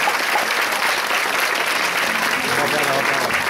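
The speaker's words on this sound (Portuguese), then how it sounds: "pedindo uma salva de palmas para essas crianças maravilhosas" A crowd at a church foundation-stone ceremony applauds young child performers, a loud, continuous burst of clapping with voices mixing in underneath toward the end.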